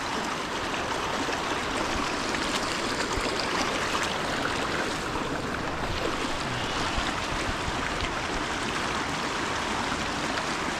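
A deep creek, swollen to about eight feet where a log lies across it, rushes steadily around the long-standing log, a loud, continuous broadband wash of flowing water with no pauses.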